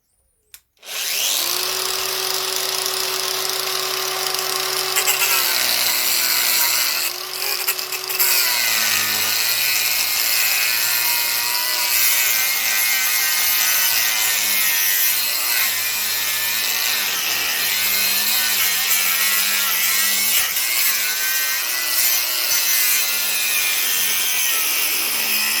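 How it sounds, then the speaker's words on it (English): An angle grinder cuts a part off a 1976 Honda CF70 Chaly motorcycle, a loud, continuous close-up metal grinding and screech that runs about 25 seconds with slight shifts in pitch and load, with no talking. "time to grind this off. What I'm going to do, I'll cut it off here"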